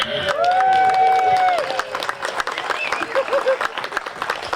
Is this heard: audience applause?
yes